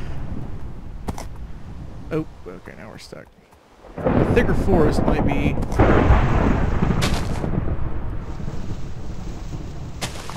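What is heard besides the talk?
thunder from lightning in video game Minecraft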